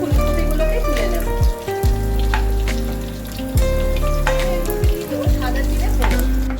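Cauliflower frying in hot oil in a wok gives a dense crackling sizzle, with low tonal humming layers that repeatedly drop in pitch and a few louder bursts throughout.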